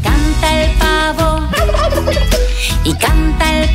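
A musical passage imitates a turkey's gobble with rapid warbling notes over a steady accompaniment, loud and close.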